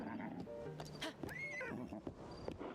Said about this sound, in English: Oh, my horse is still here.